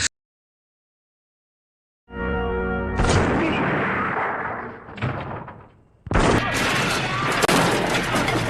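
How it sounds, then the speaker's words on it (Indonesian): Movie shootout gunfire bursts in after a silent start, dense loud volleys of shots with a brief lull before another heavy barrage. "tiba-tiba Michael datang dan langsung menembaki Brandon"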